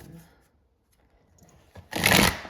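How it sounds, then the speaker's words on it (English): Oversized tarot deck being shuffled by hand, a dense burst of riffling card noise for about half a second after near-silence and faint rustling. "This deck is hard to shuffle."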